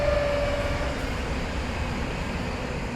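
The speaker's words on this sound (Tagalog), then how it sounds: "May tren na naman dadaan." A train passes in Melbourne on a cold day, a continuous loud rumble of rail wheels and carriages with a brief tonal squeal at the start, no talk over it.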